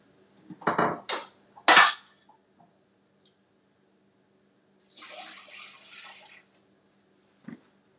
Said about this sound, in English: putting some water in my Keurig